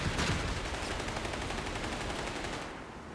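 Machine gun fire in Company of Heroes 3, a World War II real-time strategy battle: rapid, continuous bursts rattle at moderate distance and taper off near the end, with no voices over them.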